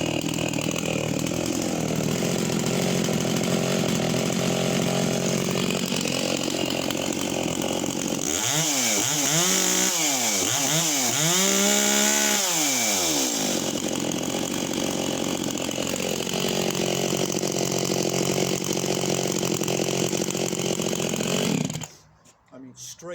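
An Echo CS-6701 professional chainsaw roars close and loud at high revs, dropping into several bogging, sweeping pitch dips as it cuts into wood, then revving steadily again before cutting off at the end.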